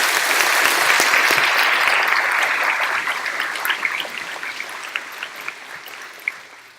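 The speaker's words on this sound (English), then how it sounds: "Give them a round of applause, please." A graduation crowd claps loudly and steadily, the applause slowly thinning out into scattered individual claps toward the end.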